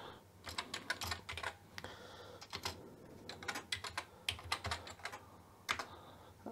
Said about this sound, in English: I'm gonna just type a small program here